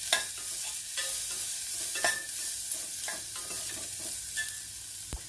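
Bitter gourd sautéing in a pan with a little turmeric, a steady soft sizzle broken by scraping stirs and spatula taps against the pan, close and alone.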